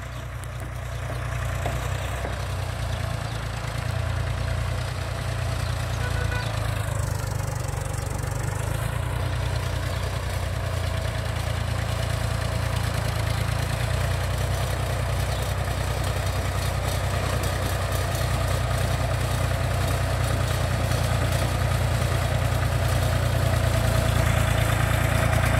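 An IMT 558 tractor hitched to a three-furrow 11-inch plough idles steadily and close by, its low diesel rumble holding an even, continuous throb with a slight rise in loudness toward the end.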